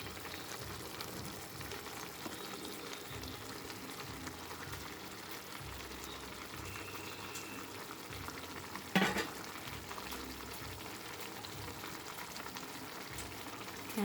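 Sardines sautéing with cabbage and pechay in a pan, a steady soft frying sizzle with light stirring throughout and a brief clatter near the middle.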